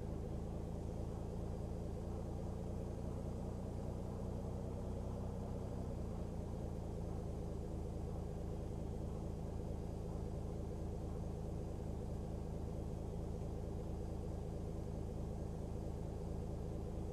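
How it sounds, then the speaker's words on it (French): A simulated Airbus A319 engine spools up in X-Plane 11 as a steady, quiet rumbling whine that shifts in tone partway through, with no talking. "Démarrage du moteur numéro 1."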